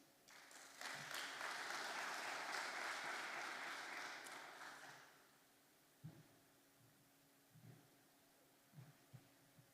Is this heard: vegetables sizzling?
no